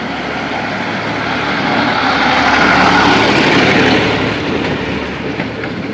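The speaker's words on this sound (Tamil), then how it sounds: "டிராக்டர் வருது." A tractor passes on a road at Nainativu in Jaffna, a loud, broad rumbling roar that swells as it comes closest and then eases away. No voices are heard over it.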